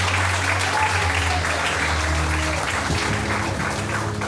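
A church congregation claps together, the applause steady and moderately loud over a low sustained musical backdrop.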